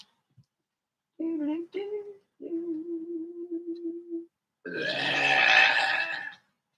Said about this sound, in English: He came back burping.